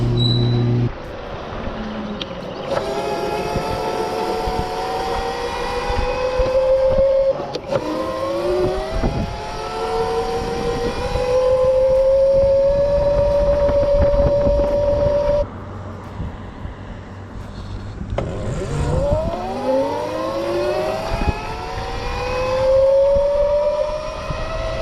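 Razor MX650 electric dirt bike running on new street tires, its motor whine rising in pitch as it accelerates, easing off, then climbing again, with steady road and wind noise close by.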